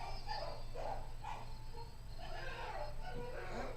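Dogs bark outside, faint and distant, in a loose series of repeated barks over a steady hum of crickets or insects.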